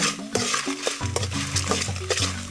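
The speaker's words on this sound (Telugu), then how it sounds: "ఈ మిరపకాయలు మాత్రం బాగా పర పర పర పరాని సౌండ్ వచ్చేదాకా ఎంచాలా" Dried red chillies roast in a pan for gongura chutney, with steady rattling, scraping and crackling as they are stirred. No one speaks over the sound.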